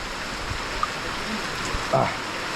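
Steady rain hisses in the mountains, with a few soft knocks and patters.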